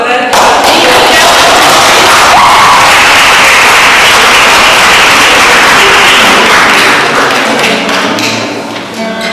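An audience applauds for Eric at an Italian book presentation, with loud, dense clapping that fills the space and then gradually thins out toward the end.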